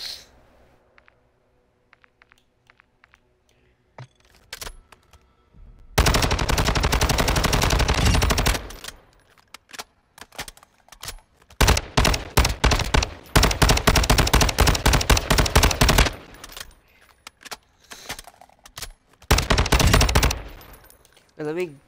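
Automatic gunfire crackles at the firing range in Warzone 2, with long, loud sustained bursts separated by quiet pauses, sharper single shots and faint handling clicks in between.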